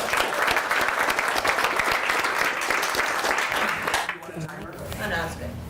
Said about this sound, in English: Let's give Mulinga a big round of applause.